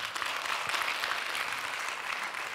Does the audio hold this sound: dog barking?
no